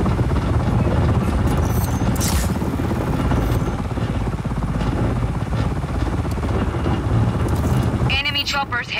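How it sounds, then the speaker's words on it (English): Rotor drone and thrumming engine roar of helicopters in the video game Just Cause 4, loud and continuous under steady noise, with voices speaking near the end. "Enemy choppers headed to your position"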